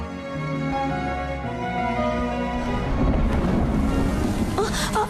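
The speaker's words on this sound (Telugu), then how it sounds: "వర్షం ఒకటి పడుతుంది." Rain falls steadily late at night, a dense and continuous wash, while low thunder rumbles beneath it and swells toward the end.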